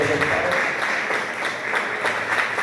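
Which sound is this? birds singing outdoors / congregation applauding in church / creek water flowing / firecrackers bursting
congregation applauding in church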